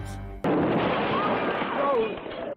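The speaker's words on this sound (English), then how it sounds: "That was an explosion." An explosion from archival TV news footage cuts in abruptly after a short low hum. It becomes a loud, sustained rumbling roar that lasts about two seconds and then stops sharply.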